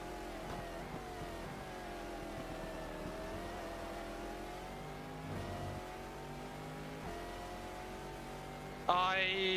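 A race car in a racing video game set at Sebring accelerates hard out of a corner, its engine revving up through the gears in rising sweeps, steady and fairly prominent, with a sharp higher sound cutting in at the end.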